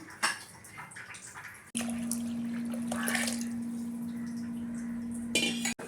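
Water pours steadily into a pot of cooking dal with a faint humming tone underneath, preceded by light clinks of utensils.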